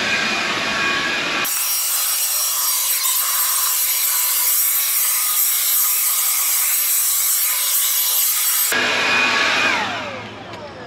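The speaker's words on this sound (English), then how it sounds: "we're going to get this fired up, and we're gonna see how the blower works here" A Badger battery-powered weed eater/blower is switched on and runs as a loud, steady whooshing roar for about seven seconds, then cuts off. Fainter handling noise comes before and after it.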